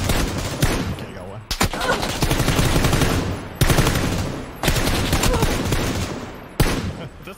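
Rapid automatic gunfire sprays in PUBG on the Miramar desert map, loud sustained bursts separated by brief pauses, with players talking over the shooting.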